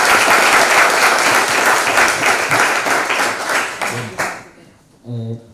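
Loud audience applause at a book presentation welcoming a district mayor, steady crowd clapping that tapers off after about four seconds, followed by a short voice.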